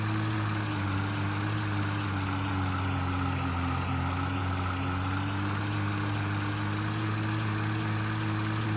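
A tractor engine in a farming video game drones at a steady low pitch, close and even, with a constant hum and no voices.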